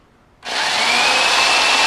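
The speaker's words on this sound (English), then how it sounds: "Now this is my grandfather's drill." An old Ram power drill, handed down from a grandfather, starts abruptly after a quiet moment and keeps whirring at a steady, loud, high-pitched motor tone until the end.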